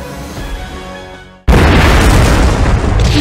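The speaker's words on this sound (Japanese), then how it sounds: "それにこれは発砲音。" In a video game, a sudden, loud blast erupts midway after a quieter rumbling stretch, followed by sustained heavy booming and crackling of gunfire and explosions.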